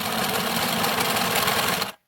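A sewing machine runs steadily and close through leather and lining for about two seconds, with a fast even needle chatter, then stops abruptly.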